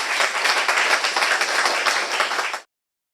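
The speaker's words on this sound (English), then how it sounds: "Round of applause for our speakers." An audience at an academic panel session applauds its speakers with dense, steady clapping for about two and a half seconds, ending abruptly in silence.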